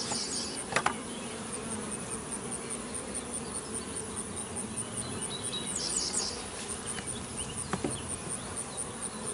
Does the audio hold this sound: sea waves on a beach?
no